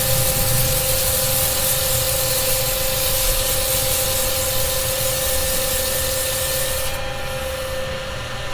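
A wood turning spins on a lathe while being sanded, giving a steady rubbing hiss over the motor's constant hum and whine, close and continuous for several seconds, with no talk.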